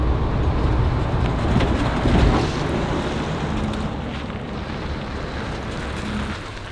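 A Ford E-Series Coachmen Starflyte Class B camper van cruising at highway speed, about 75 to 78 mph, gives a steady, loud low road and wind roar that holds throughout, with no talking.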